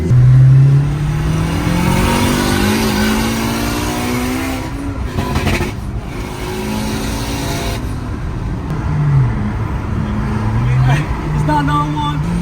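A turbocharged Honda Civic FN2 Type R making about 500 bhp accelerates hard, its engine note climbing loud and close through several gears, with brief gaps at the shifts under steady cabin noise.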